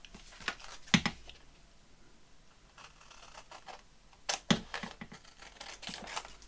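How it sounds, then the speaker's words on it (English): A sheet of paper torn along one edge during a papercraft project, with two short, sharp ripping bursts separated by quiet handling noises. "I want to tear down one edge."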